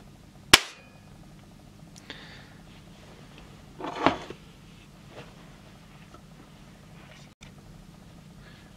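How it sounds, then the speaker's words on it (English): A Walther LP53 spring air pistol dry fires with one sharp, loud snap near the start. A few faint clicks and a softer thump follow, and the rest is quiet room tone. "I will now endeavor to dry fire this."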